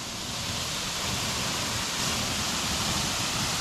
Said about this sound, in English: looks like a really nice waterfall.